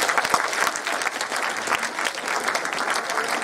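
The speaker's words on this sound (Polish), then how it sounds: "proszę o klaski" Steady audience applause at a Warsaw educational event with Andrzej Fidyk, many hands clapping in a dense, even patter with a few sharper claps standing out, moderately loud and unbroken.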